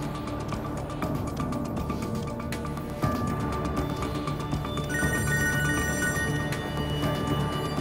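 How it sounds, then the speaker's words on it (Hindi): A telephone rings repeatedly in a Turkish drama scene, a bright electronic ring sounding over a dense background of music and room sound. "फोन तो उठाओ कम से कम।"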